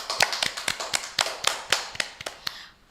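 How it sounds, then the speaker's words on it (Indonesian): A small group clapping at a children's programme, a steady run of about a dozen distinct, fairly close hand claps in a loose rhythm with no voices. "Kita beri tepuk tangan dong."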